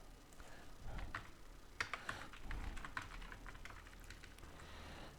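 A computer keyboard clatters as a folder name is typed in a Chrome browser, with quick irregular clicks and a few sharper taps, quiet and close with no talk.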